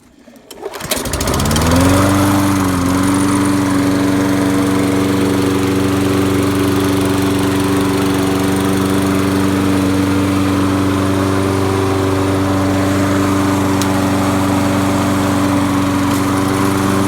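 A Toro Recycler lawn mower with a rebuilt recoil starter pulls into life and settles into a loud, close, steady engine drone that holds unchanged for the rest of the recording.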